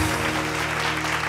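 Steady, dense applause from a studio audience for a contestant on a Bhojpuri television competition show, loud and even throughout with faint musical tones underneath.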